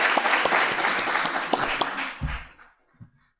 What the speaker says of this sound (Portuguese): peço uma salva de palmas para o nosso cônsul-geral